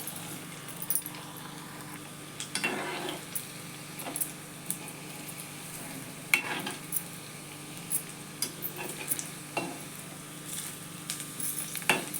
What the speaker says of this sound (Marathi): आता तळायला घेऊया आपण